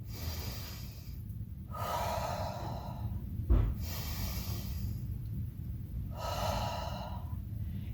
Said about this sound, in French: on prend 2 grandes respirations